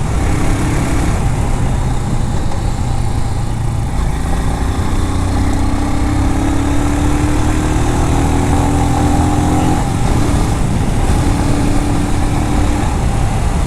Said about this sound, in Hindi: now I am getting the road where I can pull the motorcycle